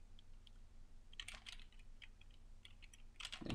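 Password keystrokes on a computer keyboard during a MySQL terminal session: two short bursts of clicky taps, a cluster near the start and another at the end, close and fairly quiet with a low background hum.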